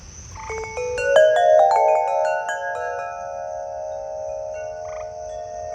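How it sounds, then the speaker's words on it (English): An eastern gray tree frog calls outdoors, a set of clear tonal trills rising near and loud at first then settling into a steady sustained tone, over a low background hum of night insects. "the eastern gray tree frog starting back"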